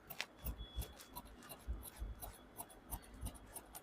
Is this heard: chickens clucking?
no